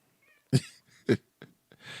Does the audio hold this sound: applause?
no